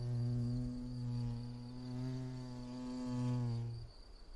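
Two-coloured mason bee (Osmia bicolor) working at a snail shell nest, a close, steady buzzing hum that wavers slightly in pitch and cuts off near the end.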